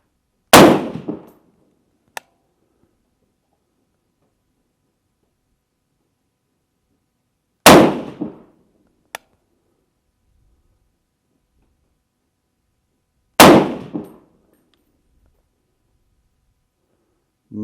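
Three loud, close rifle shots from a PSA Sabre AR-10 at an outdoor range, spaced several seconds apart, each followed a moment later by a faint metallic ping from a steel target.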